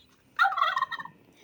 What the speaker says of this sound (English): The turkey likes to eat seeds and grains.